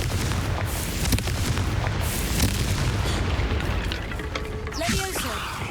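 A Confringo fire-blast spell from the Hogwarts Legacy game, heard as a dense, booming explosive rumble that stays loud across its length, with crackling bursts and a faint voice near the end.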